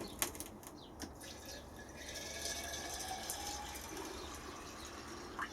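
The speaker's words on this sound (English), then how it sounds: "I'll just top the jar up first." Water trickles and splashes as a small glass jar of seeds is topped up for an overnight soak, a steady faint pour with soft bubbling and a few light knocks, close by and without talk.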